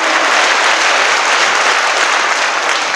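Loud, unbroken clapping from a large audience fills a sermon gathering after a testimony, with a dense wash of many hands that stays even throughout.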